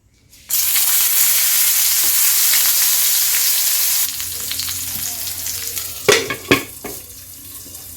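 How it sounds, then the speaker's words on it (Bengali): Pointed gourd pieces coated in turmeric and salt hit hot oil with a loud burst of sizzling that settles into a quieter crackle, broken by a couple of sharp utensil knocks near the end. "কয়েকটা পটল টুকরো করে কেটে ধুয়ে হলুদ লবণ মেখে নিয়ে নিয়েছি সেটাকে ভাজা করে নিচ্ছি"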